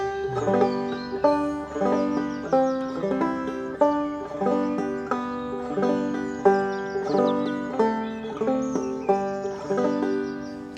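A banjo picks out the bright, fast bluegrass tune Cripple Creek with steady rolling rhythm, played solo and close with no voices.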